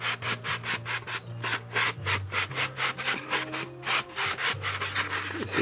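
Sticky-back sandpaper rubs against wood while shaping a curve on a model plane, a close, rhythmic back-and-forth scratching with even strokes and no talk.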